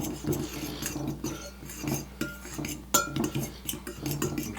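Seasoning stirred into flour in a bowl for fried chicken, soft scraping and clinks of a utensil against the bowl in uneven strokes, close and fairly quiet.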